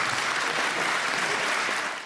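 Prolonged applause in the Greek parliament after a vote on civil marriage equality, a thick unbroken roar of many clapping hands from a large chamber that fades slightly at the very end.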